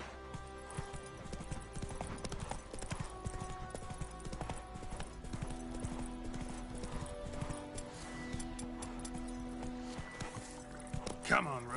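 The horse Roach galloping in The Witcher video game, a steady rapid run of hoofbeats carrying on throughout, with music and game sounds beneath and a brief whinny-like call near the end.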